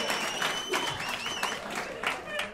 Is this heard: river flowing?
no